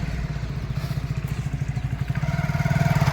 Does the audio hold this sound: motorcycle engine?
yes